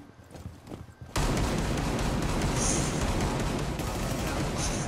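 Shotguns roar into drywall in Rainbow Six Siege: after a stretch of quieter movement, a loud, sustained barrage of blasts erupts and keeps hammering without a break.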